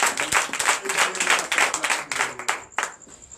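A church congregation claps and applauds at a night deliverance and prophecy service, with dense, fast hand claps over a few seconds and raised voices.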